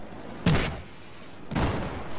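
Two sharp, loud gunshots about a second apart in the video game Battlefield 4, each with a short booming tail over quiet game ambience.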